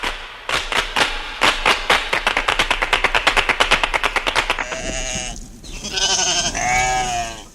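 Sheep bleating as a sound effect in a Romanian radio comedy of Don Quixote, preceded by a rapid train of sharp, regular clattering bursts and followed by wavering bleats, loud and close with no talk.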